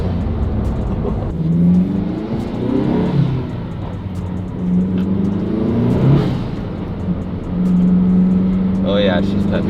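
A turbocharged car fitted with a large intake pulls hard under acceleration, its steady engine drone rising and holding loud and close through the stretch, with people chatting over it.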